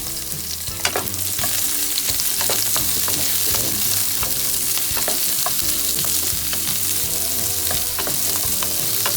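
Garlic and onion sautéing in hot oil for chicken caldereta, a steady loud sizzle with scattered crackles and the scrape of a utensil stirring the pan, no voices.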